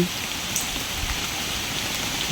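Steady rain falls in a dense, even hiss, with occasional louder drops pattering on a surface nearby.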